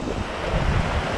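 Ocean surf washes and breaks against rocky cliffs on an Okinawa coast, a steady, loud broadband roar with heavy wind buffeting the microphone and no voices.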